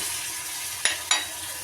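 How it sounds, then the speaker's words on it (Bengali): Ground spice paste sautéed in a frying pan for a Bengali home lunch, a soft steady sizzle with two sharp scraping stirs of a spatula, close and alone. "মশলা কষানো হচ্ছে"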